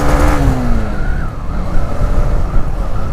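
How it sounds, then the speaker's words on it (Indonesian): A motorcycle engine on a racing chain setup revs hard and loud, holding a strained, wavering pitch with rough rattling under it as the mis-set racing chain skips. "Ini loncat. Rantainya tuh loncat."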